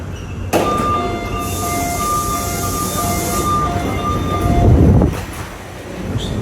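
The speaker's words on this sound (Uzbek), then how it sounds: "Shu qurilgan eshigiga to'xtaydi. Metroning ham eshigi ochiladi." A metro train pulls into a platform with a steady rumble and tonal electric whine, a brief squeal, then the doors opening near the end as the rumble settles, loud and close with no talk.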